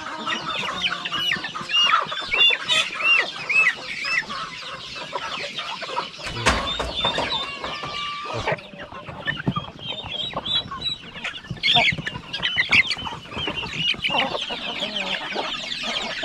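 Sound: hen and chicks clucking in a coop

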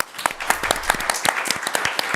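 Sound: audience applause for a birthday

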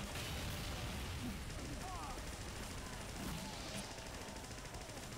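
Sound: burning scatter shots firing in a video game

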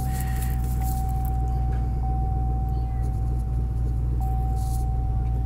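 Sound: car engine idling while warming up

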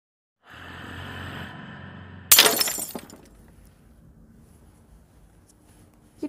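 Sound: something breaking

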